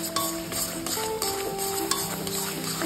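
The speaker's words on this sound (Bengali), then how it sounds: "আবারও ভীষণ ভালো করে কষে নেব।" Taro leaves stir-fried with hilsa fish head and turmeric in a pan, a steady scraping stir with soft sizzle and repeated utensil clinks close by, with a faint tonal hum underneath.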